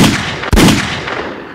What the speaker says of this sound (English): And a gunshot.